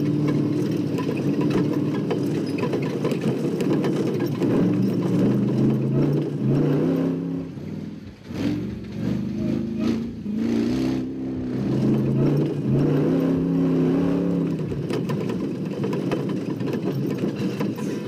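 A Jeep at a Camp Jeep off-road event, its mid-pitched engine revving and holding steady under load while driving through oversteer, loud and continuous with a brief dip midway before rising again.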